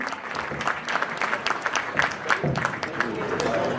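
Audience applause at an award ceremony honouring teachers, a steady crackle of clapping hands across the whole stretch with a few louder bursts, slightly diffuse as from a hall crowd.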